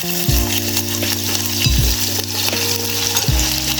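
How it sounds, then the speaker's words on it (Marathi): Chopped onion fries in a pot of hot oil as tempering for a Kolhapuri-style dal, giving a steady close sizzle with a low hum and a few louder bursts as the pieces are stirred. "त्यात थोडंसं तेल घालून घेते त्यानंतर ह्यात घालूया फोडणीसाठी फोडणीसाठी कांदा घालणार आहे मी"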